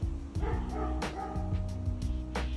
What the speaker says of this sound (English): all I can hear is the loudest dog barking